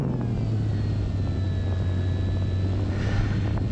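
A remote-control model airplane's propeller engine drones loud and steady throughout a full-throttle flight, a constant buzzing hum with a slight pitch dip at the start and no voices.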